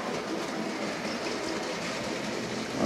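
An OO gauge model breakdown train runs on its track at about half power, pulling a heavy load on stiff axles, giving a steady, close, continuous rumble with faint clickety-clack and no talk.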